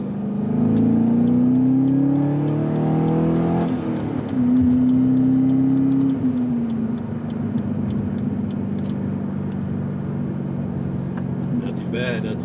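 A C5 Corvette engine revs hard while accelerating onto a freeway, rising through gears with a brief shift dip, then settling into a steady loud cruising drone with road noise, heard from inside the car.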